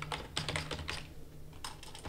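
Computer keyboard typing in bursts of quick, close clicks while a blog post is written, with a short pause before another flurry of keystrokes, and no talk.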